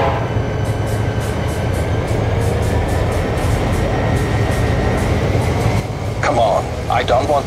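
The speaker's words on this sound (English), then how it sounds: "And Dora and Mike, take a freight train to Connellsville." A freight train rumbles steadily past with rhythmic clacking of wheels over rail joints, loud and close, and a voice speaks briefly near the end.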